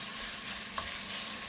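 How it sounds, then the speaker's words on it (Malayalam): Ginger garlic paste sautés in a hot pan for a fish curry, giving a close, continuous sizzle and frying crackle with a faint stir of the spoon and no voices. "ഇനി ഇതിലേക്ക് ഞാൻ കുറച്ച് ജിഞ്ചർ ഗാർലിക് പേസ്റ്റ് ഇട്ട് കൊടുക്കുന്നുണ്ട്. അതൊന്ന് വഴറ്റി ഒന്നാവട്ടെ"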